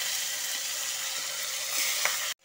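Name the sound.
cumin, dry and green chillies sizzling in leftover fish-frying oil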